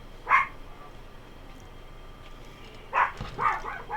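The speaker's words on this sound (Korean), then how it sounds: "우리 집 강아지는 전화가 오면 짖어요." A pet dog barks indoors: one sharp bark near the start, then a quick cluster of two or three more after a pause, moderately close with no talking.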